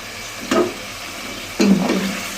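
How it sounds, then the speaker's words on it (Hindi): Beef korma masala fries steadily in a pan with green chillies added, and two short scraping stirs stand out over the constant sizzle. "अब इसको अच्छे से मिक्स करके इसको 15 मिनट के लिए भून लेंगे।"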